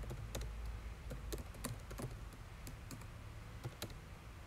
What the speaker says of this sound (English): We can start typing away.